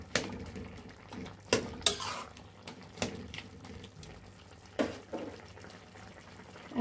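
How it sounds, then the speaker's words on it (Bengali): Pumpkin and vegetables, nearly boiled for a curry with local shrimp, are flipped and stirred in a cooking pot: scattered clanks and scrapes of a utensil against metal over a quiet background, close and fairly distinct. "আমরা এখন সবজিগুলো উল্টিয়ে দেব।"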